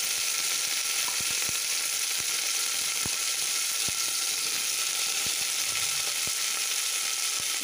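Cauliflower, potato and onion fry in oil in a pan with a steady, close, loud sizzle, broken by occasional sharp clicks and taps of a utensil against the pan.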